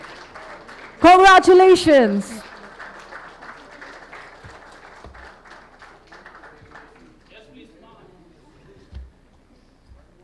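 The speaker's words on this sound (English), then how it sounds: "a big round of applause for Bharat Rohan Airborne Innovations Limited" Moderate applause in a hall at a BSE stock exchange listing ceremony for BharatRohan Airborne Innovations Limited, continuous clapping under a loud voice and speech, tapering off into quieter murmur.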